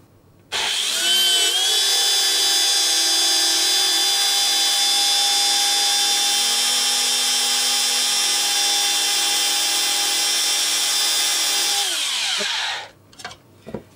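A high-pitched drill whines steadily for about eleven seconds while boring a hole in a glass jar, then winds down and stops, followed by a few brief knocks.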